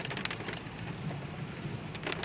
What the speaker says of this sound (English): Well, the rain's really coming down now